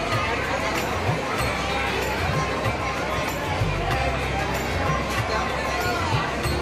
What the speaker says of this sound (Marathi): पूर्णपणे पायऱ्यावर गर्दी आहे.